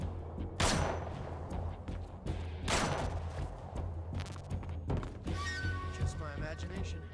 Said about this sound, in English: they're shooting boxes?